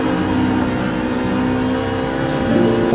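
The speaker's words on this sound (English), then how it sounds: "This transmission has got some cut gears." A car with a straight-cut gear transmission revs steadily in Gran Turismo 7, the engine drone carrying a whining gear tone that rises slightly near the end, loud and continuous with no talking.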